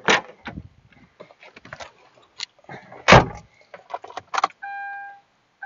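Someone climbing into a Kia Rio: close keys jingling, a car door thudding shut and clicks from inside the cabin, ending with a steady electronic chime tone; no speech.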